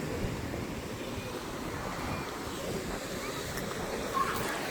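Ocean surf rolls steadily onto a beach in Kerala, a constant low wash of waves mixed with wind rumble across the microphone, with no clear breaks.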